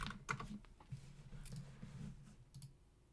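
Quiet typing on a computer keyboard, a loose run of soft, close key clicks and taps at an irregular rhythm, heard alone without talk.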